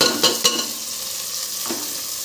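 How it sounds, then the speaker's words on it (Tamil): Tomatoes with ginger garlic paste frying in a pan, a steady broadband sizzle with a few sharp stirring scrapes near the start, close and moderately loud, with no talking. "அதுக்கப்புறம் கொஞ்சம் இஞ்சி பூண்டு பேஸ்ட்டு கட் பண்ணி வச்சு தக்காளி போட்டுக்கிறேன்"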